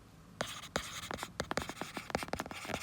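Pen writing on paper page while an accounting question is worked out, close scratchy strokes in quick irregular bursts, with no voice over them.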